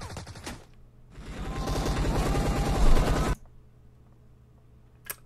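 Sustained automatic gunfire from the video game PUBG Mobile rattles loud and close for about two seconds, framed by a brief earlier burst and a single later shot, with no voices.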